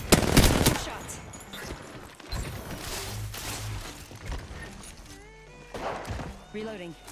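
Gunfire in Apex Legends, bursts of rapid shots close at the start and again midway, then scattered game effects, with voices talking over the action.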